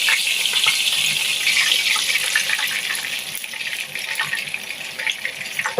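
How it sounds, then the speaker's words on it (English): Cooking oil poured into a hot pot of oxtail being browned for stew: a steady hissing, bubbling sizzle that starts strong and slowly eases, with faint crackles near the end. "So I'll be adding more oil to it"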